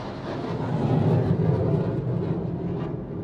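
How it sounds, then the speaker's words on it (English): A fighter jet passes overhead as a low, continuous rumble that rises slightly and holds for a few seconds, a steady distant roar with no speech over it. "there's a fighter jet above me"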